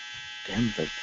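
A clothes dryer buzzer holds one steady electronic tone under a voice that talks over it briefly.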